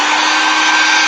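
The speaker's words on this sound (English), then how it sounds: "so I'll try the hair dryer" A hair dryer blows in a brief, loud, steady whoosh with a constant motor whine and no voices.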